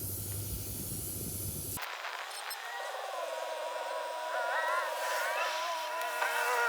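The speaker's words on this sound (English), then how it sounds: "See how fast we can air up this 35-inch tire." Air compressor inflating a 35-inch off-road tire on a trail outing, a steady loud hiss of rushing air that starts abruptly and runs continuously, nearby and alone without talk.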